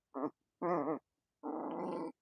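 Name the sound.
labradoodle dog growling while playing with rope toy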